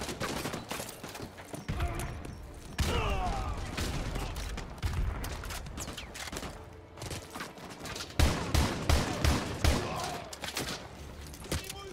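Gunfire in the Call of Duty Modern Warfare 2 campaign: repeated volleys of shots and rapid bursts over a dense battle din, closer and punchier toward the end.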